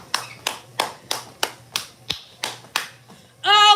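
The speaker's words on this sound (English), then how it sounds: "let's give a round of applause" Someone on a live stream claps about nine times in a slow, even rhythm, each clap sharp and close. The clapping ends with a brief buzzy tone.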